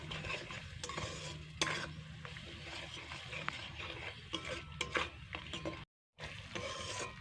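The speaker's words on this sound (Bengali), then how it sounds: "সমস্তটা খুব সুন্দর করে মিশিয়ে বেশ ভালো করে কষিয়ে নেব।" Spice paste of ginger, dried chilli and turmeric being stir-fried in a pan for a Tangra fish curry, with soft sizzling under frequent scraping and clinking of a spatula, faint and close, briefly cutting out near the end.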